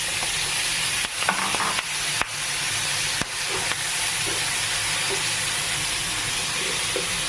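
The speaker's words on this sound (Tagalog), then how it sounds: "Ilalagay ko na yung hipon." Shrimp going into a pan of golden-brown fried garlic for butter garlic shrimp, giving a steady loud sizzle and hiss with a few sharp clinks and scrapes of stirring near the start, and no talking.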